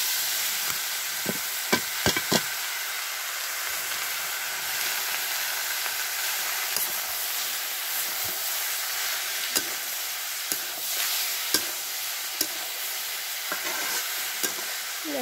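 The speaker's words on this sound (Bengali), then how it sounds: "তো পেঁয়াজটা বেশি লাল হয়ে যেতেছে, কচুটা দিয়ে দেই।" Onion and taro fry in a pan on a cement stove, giving a steady close sizzle and hiss, broken by sharp scraping clicks as the pan is stirred now and then.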